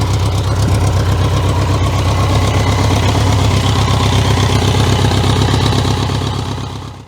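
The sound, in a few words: BMW K100 motorcycle engine idling while warming up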